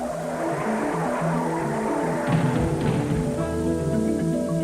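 A race car engine drones in high pitch during Indy 500 time trials, then a rough crashing burst of skidding and impact breaks in, and the engine tone continues afterward.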